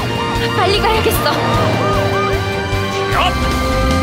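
A wailing fire truck siren rising and falling over bouncy children's song music, loud and close throughout.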